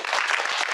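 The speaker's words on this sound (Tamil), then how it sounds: "உண்மையிலே ஒரு தடவை கைத்தட்டலாம் வந்து." An audience at a film audio launch event claps in a brief, dense burst of applause that is loud and steady, with no voices over it.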